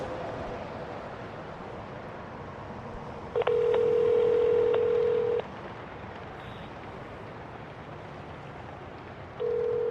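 A telephone call goes out, with dialing tones and then a steady electronic ringback tone over a quiet background. The ring sounds for about two seconds, stops, and a second ring starts near the end.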